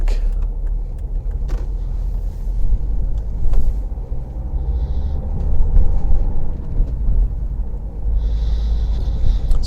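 Car driving a road from Whitfield to St Margaret's Bay in early evening commuter traffic, a steady loud interior road rumble with engine drone and brief bumps throughout, no speech.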